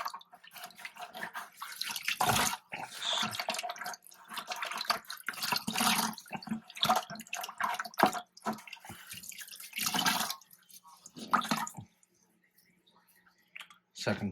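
Running water from a tap rinses canister filter media for a reef tank, splashing and trickling in uneven bursts with brief pauses, while a person talks over it.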